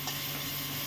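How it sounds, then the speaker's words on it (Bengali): Chilli and coriander powder being stirred in a hot pan give a brief, faint sizzle with soft scraping from the spoon. "এখন একটু নেড়ে দিব"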